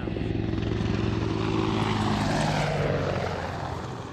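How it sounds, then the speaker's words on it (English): Low-flying helicopter over an airport crowd, a loud steady rotor and engine roar close overhead with a droning hum throughout. "The helicopter is flying very down on the ground, trying to scatter people, to scare and scatter people."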